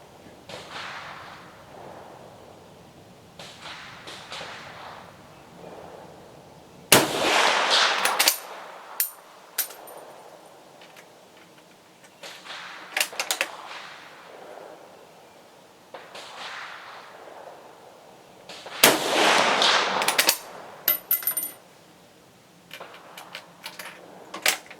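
Shots from an 1891 Argentine Mauser rifle fired at a target 200 yards away, two loud sharp cracks about twelve seconds apart, each followed by a ringing echo, between quieter stretches of handling clicks and rustling.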